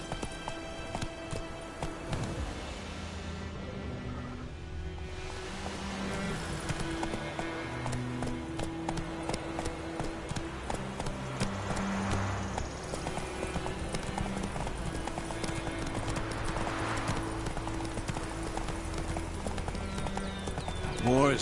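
A horse galloping in The Witcher 3, with steady rhythmic hoofbeats running throughout under game music and spoken dialogue.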